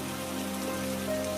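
Steady rain in a jungle rainstorm for an animated Hindi moral story, a dense, even patter of drops falling on surfaces, continuous and close with no voices over it.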